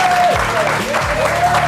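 A French TV talk-show studio audience applauds in a dense, loud burst of clapping that fills the whole moment, with a few tonal and voice-like traces mixed in.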